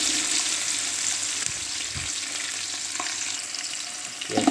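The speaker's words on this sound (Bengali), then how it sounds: "এর মধ্যে পেঁয়াজ দিয়ে দেবো। এবারটি এই পেঁয়াজটা দিয়ে দিলাম।" Onions sizzle in a hot pan for an Arabic maqluba, producing a continuous close frying hiss with faint stirring knocks, and no voices.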